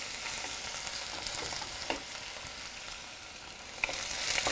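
Onions cooking toward golden brown in hot oil give a dense, even sizzle with a few faint stirring clicks, close and unbroken, no voices.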